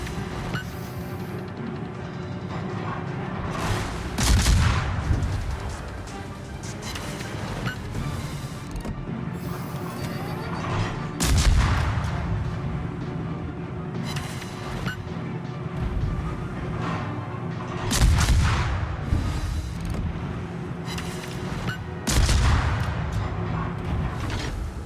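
Naval guns and artillery from World of Warships, low tier cruisers and battleships, booming in heavy recurring blasts a few seconds apart over a constant rumbling engine and sea backdrop.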